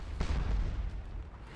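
A single Napoleonic cannon shot from the Scourge of War: Waterloo battle game booms once, fairly distant and low, then fades into a rumbling tail.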